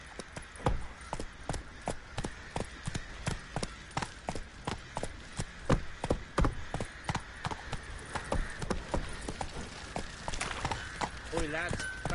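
Horse hooves clip-clopping in The Witcher 3, a steady, even rhythm of hard hoofbeats at a trot, close and clear, with speech heard over the gait.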